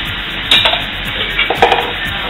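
Rice is stirred into a paella pan of Valencian paella, a spoon scraping and knocking against the metal in a few quick strokes over a soft simmering sizzle.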